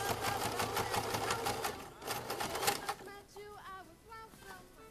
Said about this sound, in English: I pretty much just have to sew the casing on the one side